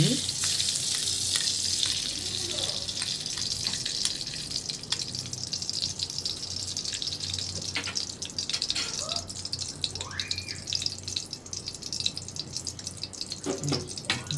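Ghee heating in a pan for semolina halwa, a steady close sizzle with a broad hiss running throughout, with a few faint clinks and scrapes along the way.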